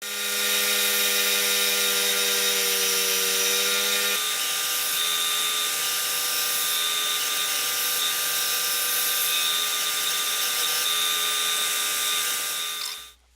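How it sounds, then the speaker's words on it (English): An EasyWood finisher tool smooths cut lines on fallen maple wood, a steady high whirring hum with tonal whine lasting throughout, shifting pitch partway and cutting off abruptly at the end. "I switch over to the EasyWood finisher to smooth out the cut lines left by the rougher"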